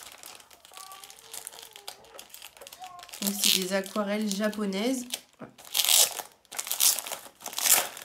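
Crinkly plastic packaging around a set of Japanese watercolour paints is unwrapped with bursts of crackling and rustling, partly under a woman's speech and loudest in the closing seconds.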